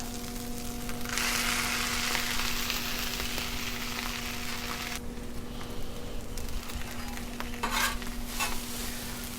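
Breakfast burritos with potatoes and veggies fry on a Blackstone griddle, a steady bright sizzle with occasional scraping and clinks of a spatula, moderately quiet and close, with no talking.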